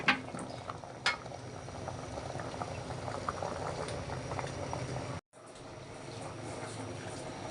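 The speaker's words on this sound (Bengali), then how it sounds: "আর এখানে চটপটি ফুটতেছে হয়ে গেছে প্রায়" Chotpoti bubbles at a steady boil in a pot, a continuous close, dense bubbling hiss with small pops, broken by a brief silence before the boiling resumes.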